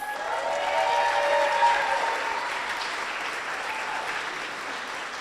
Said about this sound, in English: give a big round of applause for Vanessa Morris